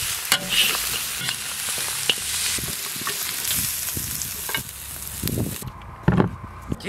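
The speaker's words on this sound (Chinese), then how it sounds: "下入排骨。 来点鸡精、味精、盐、蒜香，加入洋葱，炒一炒出锅" Garlic pork ribs stir-fried in a wok with onion, oyster sauce, bean paste, salt and seasonings: a loud, steady sizzle with repeated spatula scrapes and clanks, easing slightly in the final second.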